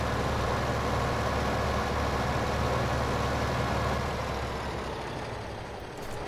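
Tractor engine in Farming Simulator 2015, a steady loud low rumble that runs throughout and eases slightly toward the end, with no talk over it.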